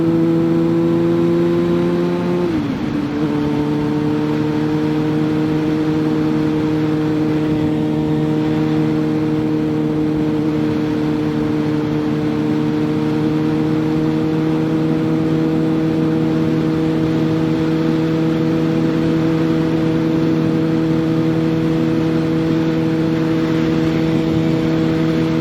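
Car accelerating steadily on an open road, its engine a loud sustained drone that drops briefly after about two seconds with a gear change, then climbs gradually and continuously for the rest of the stretch.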